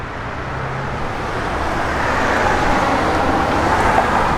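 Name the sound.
1970 Plymouth Duster with 340 engine running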